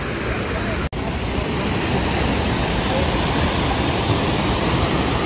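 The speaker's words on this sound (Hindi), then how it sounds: "छोटा सा है वाटरफॉल, लेकिन कम से कम इसमें पानी तो बह रहा है।" Steady rushing water from a small waterfall among large rocks in Kanger Valley National Park, India, a constant close broadband roar with a brief dropout near the start.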